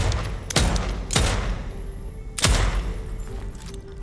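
Three sharp, loud gunshots from a gun in the video game Deathloop ring out at uneven intervals, each trailing off quickly over a steady background.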